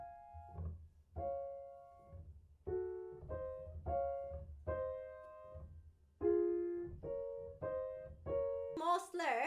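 Piano playing Clair de Lune with portato articulation, a steady string of gently separated, slightly sustained notes, fairly close and clear, with a short burst of other sound at the very end.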